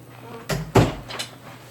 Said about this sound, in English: Let me close my door.